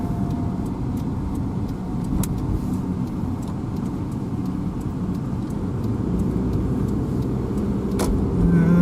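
A car driving along a road, heard from inside as a steady, loud low engine and road rumble that builds slightly toward the end, with a couple of faint clicks.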